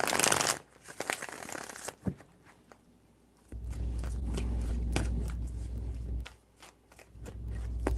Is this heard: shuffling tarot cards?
yes